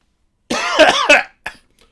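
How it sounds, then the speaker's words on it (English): A single close, rough cough with a short follow-up burst, then silence. "including that cough"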